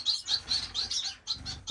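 Finches chirp repeatedly in an indoor bird room, a quick run of high, bright tweets from several birds at close range, with a short pause before the calls resume.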